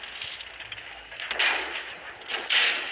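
Tank cannon shots in WoT Blitz, two booming blasts about a second apart with ringing decay, loud and close over a quiet background.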